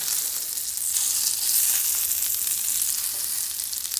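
Hot dogs fry in a pan with a steady, close hiss and crackle of sizzling fat, popping lightly throughout with no voices over it.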